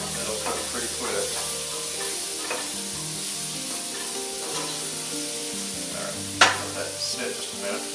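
A spoon stirs and scrapes crispy browned bits off the bottom of a hot pot while food sizzles steadily underneath, with scattered clinks, one sharp knock, and faint background hum.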